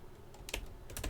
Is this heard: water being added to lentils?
no